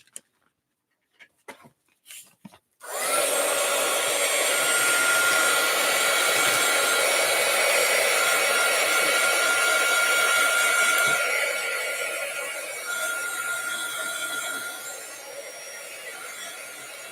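A hair dryer blowing on a craft project switches on after a few clicks and runs as a loud, steady, close whooshing roar, easing somewhat in pitch and level near the end.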